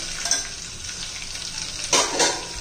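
Bay leaves, cinnamon, black pepper and cloves sautéing in hot oil in a pan, a brief steady sizzle with a couple of louder stirring scrapes near the end.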